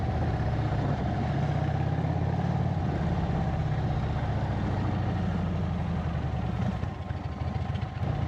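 A motorcycle engine idles steadily, a loud, continuous low rumble that holds even throughout with no revving.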